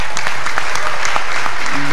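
Audience at a graduation ceremony of STIU Al-Mujtama' Pamekasan breaks into dense, loud applause, a brief steady wash of many hands clapping at once.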